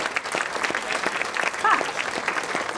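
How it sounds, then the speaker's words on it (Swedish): An audience applauds a children's choir, a lively bed of many hands clapping with cheering voices and a voice mixed in, fairly close and steady throughout. "En applåd till, ja!"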